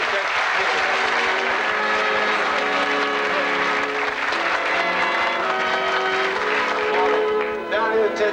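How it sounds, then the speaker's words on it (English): Studio audience at a 1979 television game show breaks into loud, sustained applause that fills the whole stretch and fades slightly near the end. "Give them a nice round of applause"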